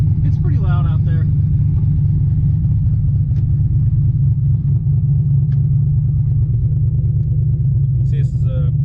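A turbocharged Corvette with a 107mm turbo idles outside, heard through a cracked car window as a constant deep low rumble, with brief speech at the start and end.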